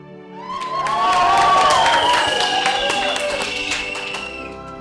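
Classroom audience applauding performers, clapping and cheering rising and holding steady, mixed with excited high-pitched voices and shouts over the claps.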